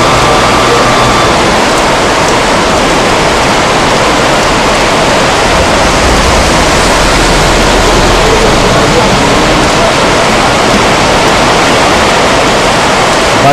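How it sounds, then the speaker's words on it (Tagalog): Heavy typhoon downpour roars as a dense, constant wash of rain, loud and unbroken throughout, with no voices standing out. "Grabe, di na tumigil ang ulan."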